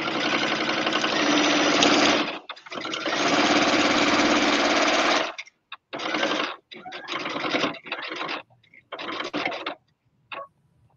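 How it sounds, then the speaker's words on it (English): A sewing machine runs in short reverse stitches across a quilted apron's belt loop: two long steady whirring bursts, then several quick stop-start runs, close and loud with no talking. "I'm just going to reverse a couple of stitches here, just in case, because it's the belting loop, just for that extra enforcement"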